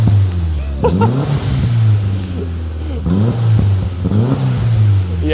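A VW Fox GTI engine with a newly fitted exhaust revs loudly in several sharp bursts, each climbing and dropping back to a steady idle, close by.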